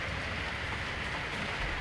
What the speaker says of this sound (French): Regarde, là, c'est la pluie.